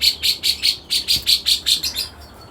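Birds on Mount Penanggungan give a fast series of about a dozen bright, evenly spaced chirps, close and clear against a quiet background.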